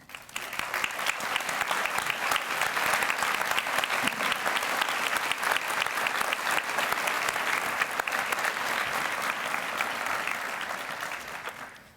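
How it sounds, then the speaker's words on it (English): Sustained applause fills a graduation ceremony in Palmer, Florida, as the crowd claps for veterans and active duty military, steady and dense for about twelve seconds before tapering at the end. "please stand for recognition as we applaud your thank you and applaud your service"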